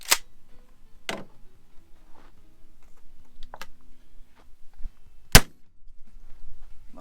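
A few sharp gunshots crack close to the camera, spaced irregularly, with a couple of louder reports standing out against quiet outdoor background, and no talking.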